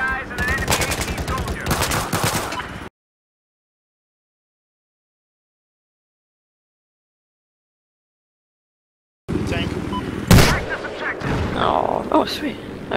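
Helicopter weapons in a video game fire in dense rapid bursts of gunfire with booms, loud and near, cut by a long stretch of silence before the shooting resumes.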